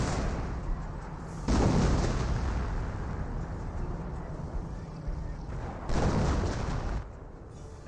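Artillery and mortar fire in the WWII strategy game Company of Heroes, with 25-pounder guns and mortars against a Hetzer; dense rumbling barrage with two louder bursts of booms rising over steady battle noise, a voice faintly beneath.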